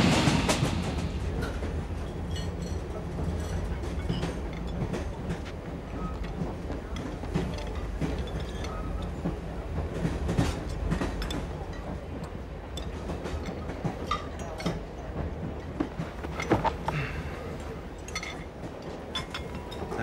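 A train rumbles steadily along the rails with a constant low roar, occasional clanks and rattles rising above the noise, no voices.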